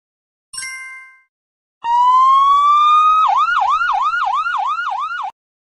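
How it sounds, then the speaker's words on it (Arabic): A short tonal chime, then a loud siren that rises steadily before switching to a rapid repeating wail, close and clear with no talking. "سيارة مطافئ"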